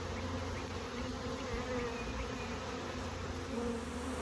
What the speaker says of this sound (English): all just witnessed me catching a swarm of bees in my yard.